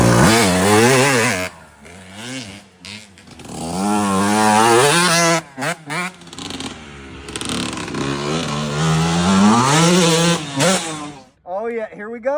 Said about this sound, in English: We got Big Mike coming off a Harley, first time in 25 years on a two-stroke.